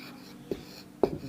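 Marker or chalk strokes on a board during a class 9 mathematics lecture: two brief, quiet scratches about half a second apart over a faint room hum.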